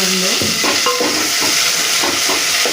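Onions and green chilies fry in hot oil for dal curry, a loud, dense sizzle running throughout with repeated scraping stirs of a spoon, close up.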